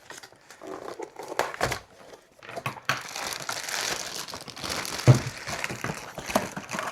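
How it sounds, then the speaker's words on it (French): Packing tape being pulled open on the side of a figurine box during an unboxing, heard as close, irregular crinkling and tearing bursts of plastic and cardboard that build into continuous rustling. "il va falloir ouvrir le scotch sur le côté"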